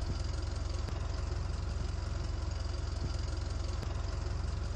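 A tractor engine idles steadily in a farming game, a low, even, rhythmic chug that stays loud and close with no pauses and no talking.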